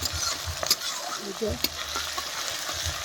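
Onions and tomatoes frying in hot oil with cumin, dried chili and bay leaf, a continuous close sizzle with scraping stirs and a couple of clinks of the utensil against the pan.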